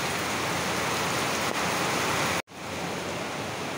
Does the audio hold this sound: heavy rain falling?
yes